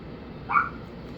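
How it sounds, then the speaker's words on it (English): A dog gives a single short whine or yelp from outdoors, wanting to be let in, heard faintly through a muffled, low-fidelity recording with steady background hiss. "That's just my dog wanting to come inside."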